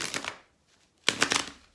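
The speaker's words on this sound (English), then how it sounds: "I need to shuffle the deck right now" A deck of tarot cards shuffled by hand in two brisk bursts of riffling and flicking with a short pause between, close and fairly clear.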